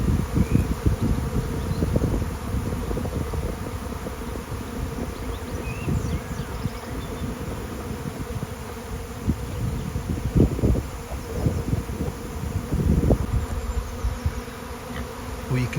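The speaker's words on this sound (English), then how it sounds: "But there's a lot of bees around the bottom." A honeybee swarm buzzes densely around a stack of hives outdoors, a steady close hum with louder swells as bees pass near, and no talking.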